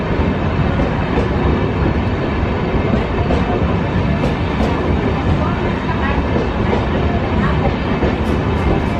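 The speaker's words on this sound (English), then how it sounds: "KSR Bengaluru Kanyakumari Express with the new LHB racks being moved to Bangalore City Junction for departure later in the night today." LHB coaches of the KSR Bengaluru Kanyakumari Express being shunted toward Bangalore City Junction at Bangalore Cantonment station, a steady loud rumble of rolling rail wagons with clanks and wheel noise throughout, with faint voices in the background.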